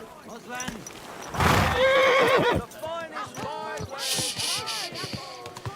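A horse whinnies loudly, with clip-clopping hooves and a voice talking in between, in the video game Kingdom Come: Deliverance II.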